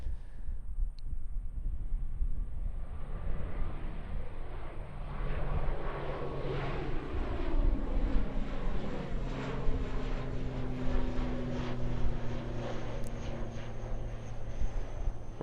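An ATR 72 turboprop airliner at Christchurch Airport takes off, its propeller engines roaring loudly and steadily with a droning tone that shifts in pitch as it passes.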